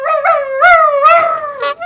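A voice mimics a dog's howl, drawn-out wavering whines rising and falling, close and loud.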